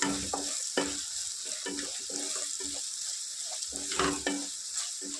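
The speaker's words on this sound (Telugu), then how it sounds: "మంట కొంచెం మీడియం పెట్టుకొని ఫ్రై చేసుకోండి అన్నీ" Chicken 65 pieces with chili powder stir-fried in a pan over medium heat, a steady sizzle broken by repeated scraping and clattering stirs of a spatula, close and without speech.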